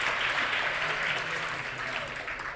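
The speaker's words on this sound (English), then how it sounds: "So I'd be grateful if we can give him a round of applause for how much he gave." An audience at a tourism business conference in South Africa applauds a former tourism leader, a sustained wash of clapping that holds steady before easing slightly toward the end.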